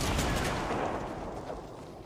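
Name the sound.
gunfire in a video game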